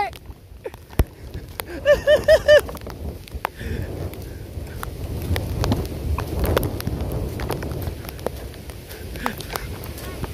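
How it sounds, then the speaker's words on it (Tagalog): Rain and gusting wind from Typhoon Kristine wash steadily over a rough outdoor scene, with scattered knocks and clatters and a burst of short sharp tones early on, and people talking and calling out at times. "literal na bagyo kasi ngayon mismo yung bagyo"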